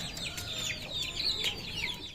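Turkey birds kept as a pair in Karachi, giving a run of repeated, fairly close calls that overlap into a busy chatter of fowl voices, with no one speaking.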